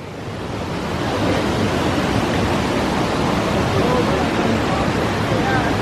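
Sweet Creek Falls waterfall on the Oregon Coast, a loud, steady broadband rush of falling water that swells in over the first second and then holds constant, close by with no talk.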